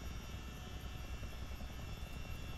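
A Miltech CH-47 Chinook twin-rotor helicopter in flight in Microsoft Flight Simulator, giving a steady, dense rotor and engine drone that fills the whole stretch at an even level, with no voices.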